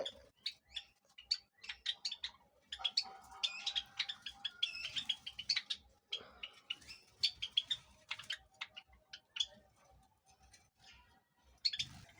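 Java sparrows, including a black java, chirp and tweet in a busy, overlapping chorus of short bright calls that runs the whole time, close by and fairly loud, with brief pauses between bursts.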